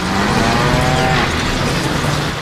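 A cow moos in the Deadpool video game, one drawn-out low bellow rising out of a loud, dense wash of game noise.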